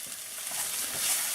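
Onions sizzling and frying in a pan as they are stirred, a steady bright hiss that swells slightly toward the end, with no talking.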